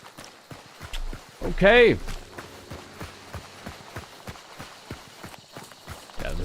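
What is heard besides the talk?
horse hooves in Hunt: Showdown video game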